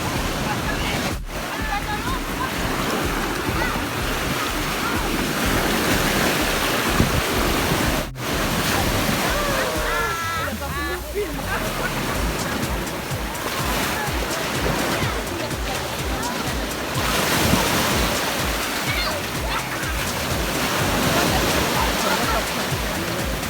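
Ocean waves wash continuously onto Saline Beach in Martinique, a broad steady roar with wind buffeting the microphone, and people talk intermittently over the surf.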